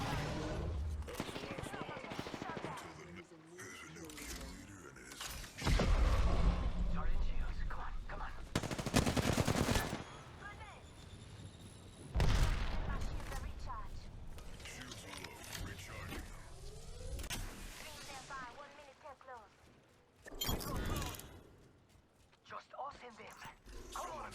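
Flatline rifle bursts in Apex Legends, several loud fast automatic volleys separated by quieter stretches, with someone talking throughout.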